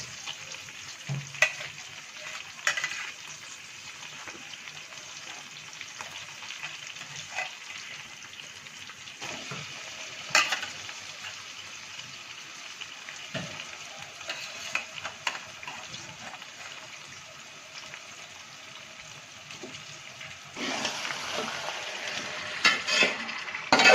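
Marinated chicken for a chicken dum biryani hits a hot pan of masala with green chilli and mint, then sizzles and frays steadily while being stirred, with scraping spoon strokes and a brighter burst of frying near the end.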